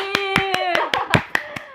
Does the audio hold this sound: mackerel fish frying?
no